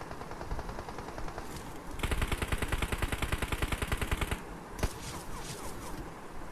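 Automatic gunfire from a PUBG match on the Erangel map: a sustained rapid burst of loud, closely spaced shots, preceded and followed by scattered fainter firing and one sharp single report near the end.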